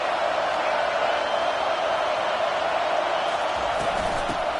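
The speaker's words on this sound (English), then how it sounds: "This crowd trying to make life miserable for this offense." A football stadium crowd sends up a steady, dense roar that holds at an even level throughout, with no clear break or single voice rising above it.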